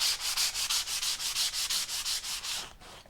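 Hand sanding the fuzzy edge of a wood flooring piece for a micro camper RV, about a dozen quick, even rasping strokes in a steady rhythm, close up, with no voices.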